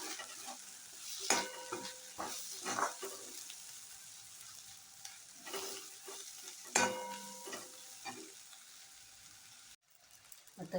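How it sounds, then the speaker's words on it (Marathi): Red chili powder and ginger-garlic paste sautéing for gavar bhaji, a busy frying sizzle broken by repeated sharp scraping stirs of a spoon against the pan, fairly close and continuous. "थोडंसं आलं लसूण पेस्ट घालायचं आहे आणि चांगलं परतून घ्यायचं आहे"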